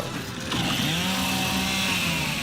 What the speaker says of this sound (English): From the moment that Ty grabbed that chainsaw to rip through a locust at the superstore